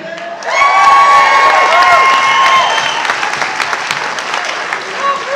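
A loud crowd applauds and cheers, with whoops and a sustained shout rising over dense clapping that gradually thins out.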